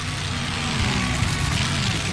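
A monster truck engine in the Rigs of Rods driving simulator roars steadily at full throttle, a dense continuous drone that stays loud and close throughout.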